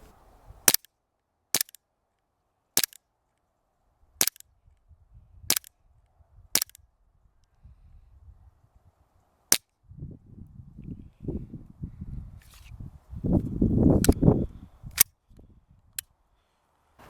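An Umarex Glock 17 Gen 4 replica pistol fires about a dozen sharp, evenly spaced snapping shots at a target outdoors, close and crisp, with rustling handling noise between later shots.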